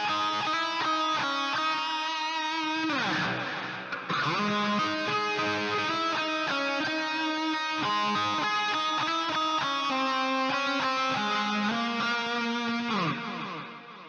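Distorted electric guitar lead played through a pedalboard with delay and a large plate reverb, sustained melodic notes with smeared repeats and a lush tail, loud and continuous, briefly dipping around the fourth second.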